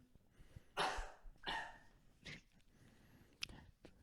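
A few faint, separate coughs spaced about a second apart, quiet and somewhat distant, with soft background noise between them.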